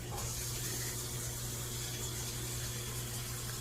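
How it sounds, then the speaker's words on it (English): Shower water running in a bathroom, a steady broadband hiss of spray with a low hum underneath, continuous and moderately close with no talking. "those are shower sounds"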